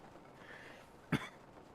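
A commentator at a Breath of the Wild speedrun tournament, recovering from illness, lets out a single short cough, sharp and brief against a quiet background.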